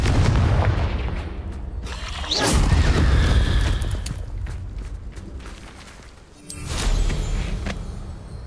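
A fire spell explosion in the Hogwarts Legacy video game, two loud booming blasts with a rumbling tail, the first near the start and a second bursting in after a brief lull, with no talk.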